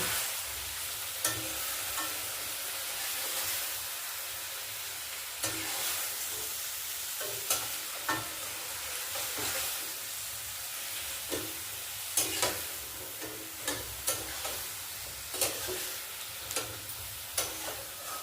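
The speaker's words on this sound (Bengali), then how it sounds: "পালং শাকটা কষে নিয়েছি" Spinach paste and flat beans stir-fried in a pan, with steady frying sizzle and repeated sharp spatula scrapes and taps at irregular intervals, close and clear, no talking.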